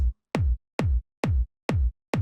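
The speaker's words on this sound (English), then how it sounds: "So this is my main kick sample." A punchy electronic kick drum repeats alone at a steady, even tempo, each hit a deep thump with a sharp click at the start and a quick falling tail.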